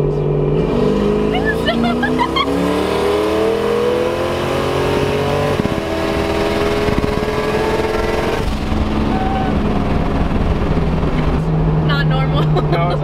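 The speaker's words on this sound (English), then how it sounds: "the car feels real slow on wastegate" A 1000hp Chevrolet Camaro accelerates on wastegate, its engine tone rising through gears in a loud, continuous in-cabin drone with people talking over it.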